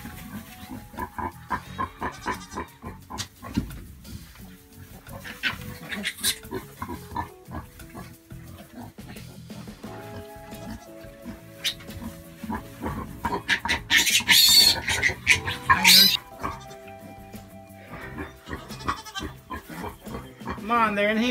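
Goats and other farm animals call repeatedly on a farm, mixed with grunting and bleating noises and a busy, shifting clatter, while people talk throughout nearby.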